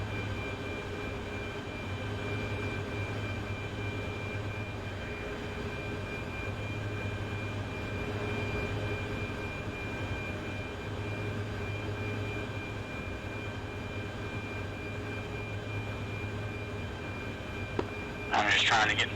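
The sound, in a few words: aircraft engine, from a flight simulation video game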